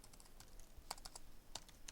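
Several crisp computer keyboard key taps, a quick cluster then a few more, close and quiet, with no voice.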